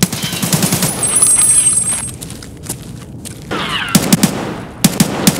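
Cover gunfire in Escape from Tarkov: bursts of rapid close-range rifle shots, a volley at the start, then sharp separate cracks and short strings of fire toward the end.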